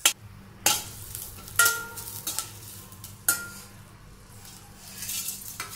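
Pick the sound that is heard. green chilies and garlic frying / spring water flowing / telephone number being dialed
green chilies and garlic frying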